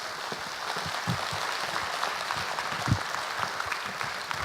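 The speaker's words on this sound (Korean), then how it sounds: "다시 한번 우리 김선희 작가님께 박수 부탁드리도록 하겠습니다." A studio audience at a televised traffic-courtesy talk show applauds a writer, producing a continuous crowd clatter with a few louder, nearer claps standing out.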